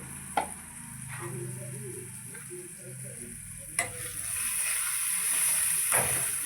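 Chicken frying in a pan with salt, being stirred: a steady close sizzle and hiss throughout, with a few sharp utensil taps against the pan and faint background voices.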